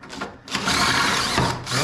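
A cordless drill whirs steadily through metal, loud and close, with a brief dip at the start before the motor runs continuously.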